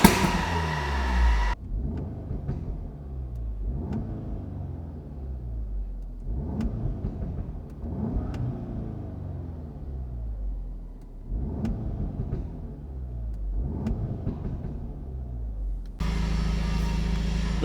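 Audi S3 with a GPF delete and valved custom exhaust, running in dynamic mode: a series of engine revs rising and falling in repeated sweeps, close and throaty, with a quieter idle rumble between them.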